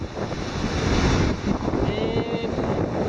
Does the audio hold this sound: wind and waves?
yes